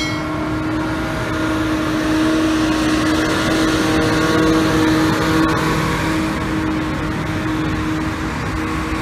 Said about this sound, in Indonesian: Hino RM ini, suara nih.